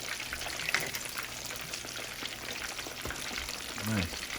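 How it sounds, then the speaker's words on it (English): Fish frying in hot oil, a steady crackling sizzle with some clatter, while a voice speaks over it now and then. "So hold the tail down, make the tail start frying."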